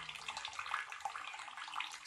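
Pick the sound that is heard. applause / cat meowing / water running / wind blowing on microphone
water running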